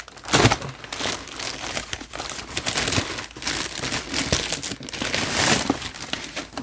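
Paper crinkles and tears as a Yu-Gi-Oh card box is unwrapped, with rustling, crackling bursts coming close and unevenly for several seconds.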